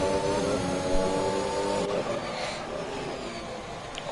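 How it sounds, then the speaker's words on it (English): An F1 car in a racing video game holds a steady high engine whine whose pitch drops sharply as the brakes lock up, then carries on at lower revs, heard alone at moderate level. "You could hear the revs drop quite a large amount, insinuating a lock up"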